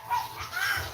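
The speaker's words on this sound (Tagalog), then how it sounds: "Oh, ang mga aso namin," Several dogs bark and whimper close by at a rural home in Bicol, a short burst of yelping over light background noise.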